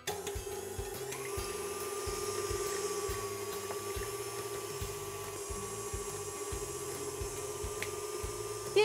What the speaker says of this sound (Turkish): Çırpma telini taktım ve önce orta devirde, daha sonra yüksek devirde kremam tamamen kıvam alana kadar yaklaşık 2-3 dakika kadar çırpacağım.